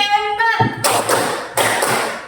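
Children in a classroom clap in a counted rhythm, a few sharp claps and thumps after a short spoken or sung lead-in, close and lively.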